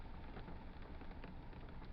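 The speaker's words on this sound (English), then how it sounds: "It's raining." Rain falling outside, a steady dense hiss of drops on surfaces with no pauses, moderately close and fairly quiet.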